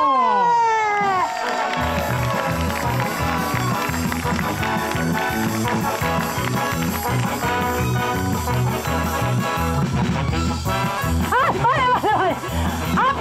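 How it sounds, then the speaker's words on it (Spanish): Festival crowd at San Antolín 2024 cheering, shouting and applauding a performer's entrance, loud and continuous over rhythmic music, with voices and high whoops throughout. "recibamos con gritos, piropos, aplausos, berridos"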